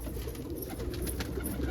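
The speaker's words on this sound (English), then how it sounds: "Got a bird just landed on my phone while I was taking this video." A pigeon that has just landed on a phone coos softly among kept fancy birds, steady low cooing over a constant noisy background, close to the microphone.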